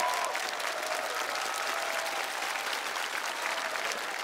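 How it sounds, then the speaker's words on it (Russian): A studio audience on a talent show applauds a contestant with a dense, steady burst of clapping that stays even and close throughout. "Аплодисменты."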